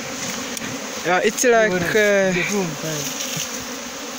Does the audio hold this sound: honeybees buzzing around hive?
yes